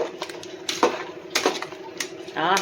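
Fried paneer being stirred into pulao in a pot, giving several sharp clinks and scrapes of a spoon against the metal in an uneven rhythm, close and fairly loud, with no one speaking.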